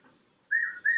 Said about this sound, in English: There's my clock, my bird clock.